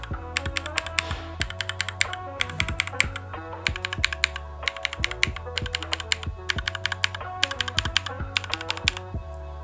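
Rapid typing on a Glorious GMMK Pro mechanical keyboard, with crisp clustered keystrokes clattering in quick bursts close up and a few heavier key presses in between.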